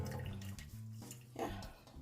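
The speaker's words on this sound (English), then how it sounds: "So I'm just going to drain all the water." Rinse water from washed rice pours out of a container into a sink, giving a faint, low splashing trickle with small surges, fairly close and quiet.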